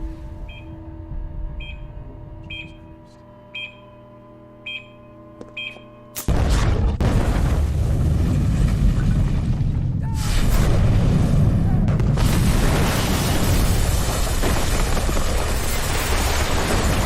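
In the video game Rampage, a TV station hostage situation ends in a dramatic explosion that collapses the building. Steady electronic beeps give way to a sudden loud, sustained crashing roar and rumble.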